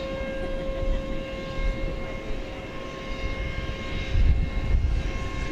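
A jet airplane comes in to land on the runway at DFW Airport at night, its engines a droning whine with steady high tones, distant and sustained, swelling into a low rumble near the end.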